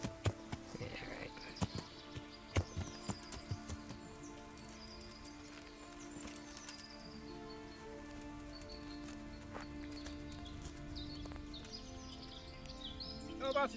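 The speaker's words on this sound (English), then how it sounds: "Got some horses on the side of the road" Horses in the medieval video game Kingdom Come: Deliverance, scattered hoof clops and shuffles near a roadside camp, irregular and fairly quiet, with ambient game sounds and occasional tonal effects around them.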